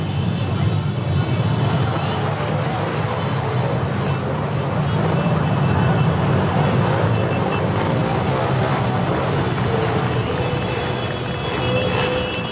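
A procession of motorcycles escorts an archbishop during the Círio de Nazaré religious festival, producing a dense, constant engine roar with a voice speaking over it.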